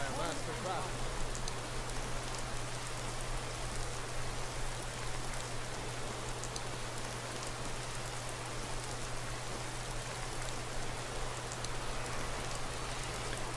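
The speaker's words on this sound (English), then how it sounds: "So the only thing I might change with the rain is just lighten it up a little bit." Steady, dense rain falling in the open world of the video game Skyrim Special Edition, a continuous even hiss with a low constant hum beneath it, no voices.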